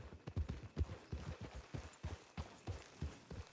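Horse hooves clip-clopping steadily in Red Dead Redemption 2, a quick even rhythm of soft thuds at moderate distance, fairly faint and without talk.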